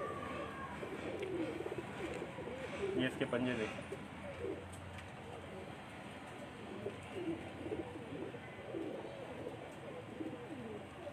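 Baloch breed pigeons coo softly in a low, continuous murmur, with someone talking nearby over the birds.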